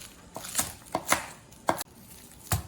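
Knife chopping scallions on a cutting board for a garnish: five or six crisp, separate chops at an uneven pace, close and clear, with no talking.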